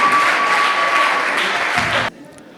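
An audience at a Génie en Herbe school quiz match between lycées applauds loudly in a dense, sustained burst that stops abruptly after about two seconds, leaving a faint room tone.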